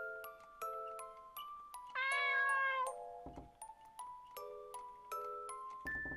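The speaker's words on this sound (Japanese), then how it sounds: "ノワールは泣くのが好きなのね" A cat meows repeatedly in a horror video game, a string of short close cries with one longer drawn-out wail, set over a quiet background with a few soft ticks.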